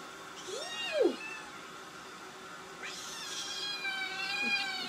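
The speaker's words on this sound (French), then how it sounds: "J'ai un chat qui est avide de m'attaquer." A cat meows several times nearby, with rising and falling cries spaced a couple of seconds apart, one louder drawn-out call early on, over a quiet room.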